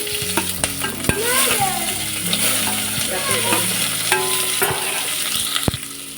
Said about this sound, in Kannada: ಇದು ಚೆನ್ನಾಗಿ ಫ್ರೈ ಆಗಬೇಕು ಆಮೇಲೆ ಗೋಲ್ಡನ್ ಬ್ರೌನ್ ಬರಬೇಕು ಈರುಳ್ಳಿ